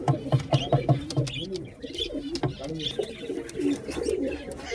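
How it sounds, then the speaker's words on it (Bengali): Pigeons coo repeatedly at a high flyer pigeon shop in a Barabazar market, including a pair of Black Hawks, with soft throaty calls close by and a busy background. "এই এক জোড়া ব্ল্যাক হক্স কবুতর আছে"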